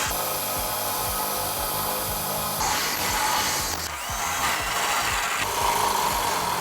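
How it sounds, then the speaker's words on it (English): A power drill with a 5/8-inch bit bores holes for a trailer hitch on a 2010 Ford Crown Victoria, a loud continuous grinding whir that shifts pitch as the bit cuts. "using a 5/8 drill bit, we're going to drill all 4 of our holes"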